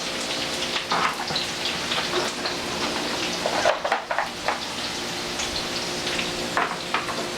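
Onions and pepper frying in a pan for a frittata with cheese and potatoes, a continuous crackling sizzle with occasional louder spatters and stirring scrapes.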